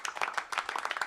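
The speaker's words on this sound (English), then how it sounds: "Golf clap." A few hands clapping a polite golf clap: a quick run of light, close claps, about a dozen evenly spaced across a second, with no voices.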